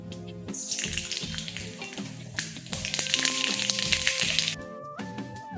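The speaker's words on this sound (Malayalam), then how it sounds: "എണ്ണ ചൂടായി വരുമ്പോൾ നമുക്ക് അതിനകത്തോട്ട് ലേശം കടുക് ഇട്ട് കൊടുക്കാം കേട്ടോ." Mustard seeds crackle and sizzle in hot coconut oil in a pan while vanpayar mezhukkupuratti is cooked, with bright popping bursts over a frying hiss and a steady tonal hum underneath, no talking.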